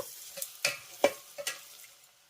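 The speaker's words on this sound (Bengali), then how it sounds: "এবার এই মশলাগুলোকে সব আমি পেঁয়াজের সঙ্গে ভালো করে একবার মিশিয়ে নেব" Spices and onion are stirred together in a frying pan while cooking a Bihari-style egg curry. A few scraping strokes of the spoon sound at uneven intervals over a soft sizzle, fairly quiet and close, with no talking.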